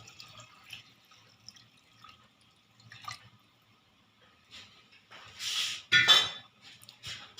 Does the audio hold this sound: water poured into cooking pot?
yes